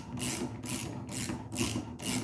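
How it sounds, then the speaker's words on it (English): Ratchet tightening the cap on a HY PRO V5 filter housing, a run of about five quick rasping ratchet strokes in even rhythm, close and fairly quiet. "For this instance I'm just using a ratchet just to bring it home"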